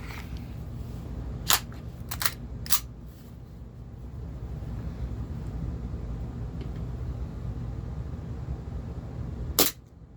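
A Steyr L9-A2 CO2 airsoft pistol from ASG fires BBs in sharp, bright snaps: a few shots in quick succession early on, then a pause over low background rumble before one more crack near the end.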